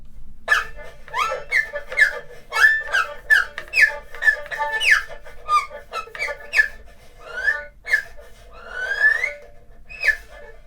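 An erhu's bowed string slides and chirps imitating birdsong, a rapid series of short high squeaks and trills with a longer rising whistle near the end.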